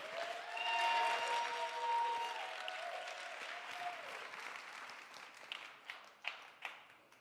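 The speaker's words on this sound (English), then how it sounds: "Big round of applause for Gerald Lucas." Audience applause fills a hall at a motivational speech event in Hollywood, California: dense, loud clapping swells at first, then thins into scattered, fading claps toward the end.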